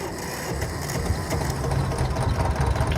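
Tractor engine idles in the farming video game Farming Simulator 22, a steady low rumble with a faint mechanical chatter that holds at an even level throughout, with no talking.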